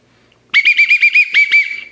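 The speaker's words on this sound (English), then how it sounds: "Why'd you blow the whistle?" A shrill whistle trills in a quick run of about eight warbling pulses, loud and close, after a moment of near silence.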